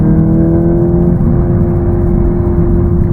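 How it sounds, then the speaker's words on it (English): VW Golf GTI Clubsport 45 anniversary edition with its special exhaust, a loud, close, sustained engine and exhaust drone holding a steady pitch under load throughout, no voices. "And yes, I can confirm the exhaust system is quite special."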